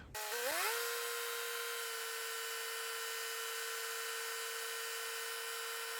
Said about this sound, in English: I'm gonna start the dozer and let it warm up for a second. I'm gonna rev it up